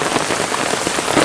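Heavy rain pours down around a fisherman checking fish traps outdoors, a loud, dense, continuous hiss with close drops spattering throughout.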